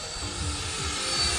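An FMS Rafale RC model jet with an electric ducted fan flies fast overhead, giving a steady high-pitched whine and rushing roar that builds slightly as it passes, with no talking.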